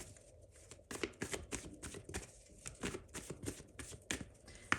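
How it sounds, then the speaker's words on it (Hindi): Tarot cards are shuffled and drawn by hand, a quiet, close series of rapid riffling flicks and soft slaps in an irregular rhythm. "let me take out some more cards"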